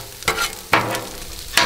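Chicken pieces stirred in a hot pan with sesame oil crackle and sizzle, with three sharp bursts of scraping and spattering that each trail off into a softer, steady fry.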